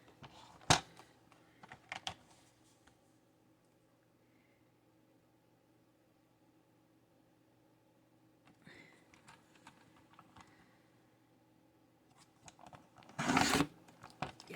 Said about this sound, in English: See, my trimmer is just tearing it.